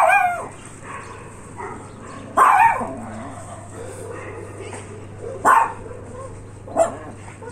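Stray dogs barking outdoors in Sevastopol, a few short bursts spaced a few seconds apart over a steady low hum, with a voice talking faintly in the background.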